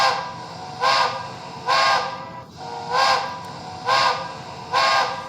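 Lehigh Valley Crosby three-chime steam whistle sounding from a Bachmann K4s streamlined HO-scale model train, five evenly spaced blasts of about a second each over a steady hiss, fairly close and clear.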